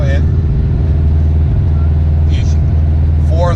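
A manual car cruising in fifth gear at around 2,500 to 3,000 rpm makes a loud, steady mid-low engine drone inside the cabin, with brief voices over it.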